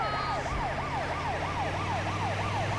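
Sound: ambulance siren in GTA 5 Rescue Mod video game

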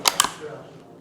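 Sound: safety catch click on Rossi Rio Bravo .22LR rifle

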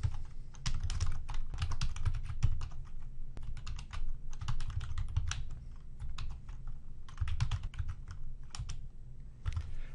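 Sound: typing on computer keyboard

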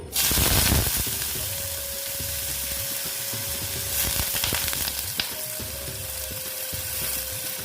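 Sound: potatoes frying in hot oil

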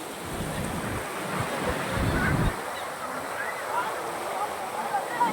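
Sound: large ocean waves breaking

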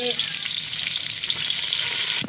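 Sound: soaked ingredient being fried for brinjal curry

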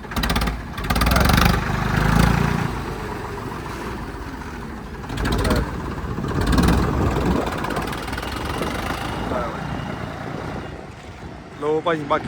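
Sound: Ford 3600 tractor engine running

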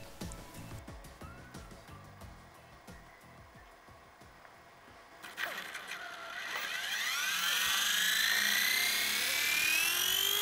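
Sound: WLtoys V977 brushless flybarless RC helicopter flying

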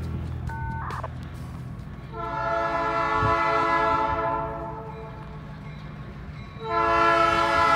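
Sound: Cincinnati Eastern short line train passing through Sardinia

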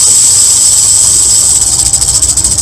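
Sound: snake hissing

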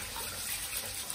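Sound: rinsing rice in water

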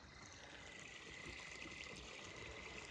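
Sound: water flowing while irrigating a garlic field

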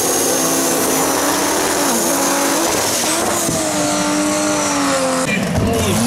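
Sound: race car engines

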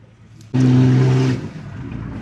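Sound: off-road cars racing in extreme stage

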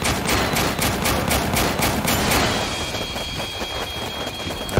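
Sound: turret firing in the video game Warpips

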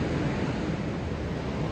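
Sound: stormy ocean surf

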